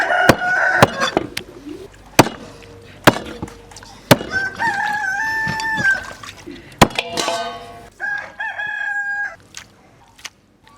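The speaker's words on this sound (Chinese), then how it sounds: "把鸡肉剁成块儿。" A cleaver chops a big rooster into pieces on a board, landing a dozen or so sharp, separate thwacks at an uneven pace. A rooster crows twice in the background between the strikes.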